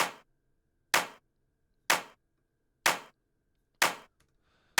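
Clap samples in a drum mix, five sharp, isolated hits spaced evenly about a second apart, each with a short decaying tail, crisp and dry with silence between.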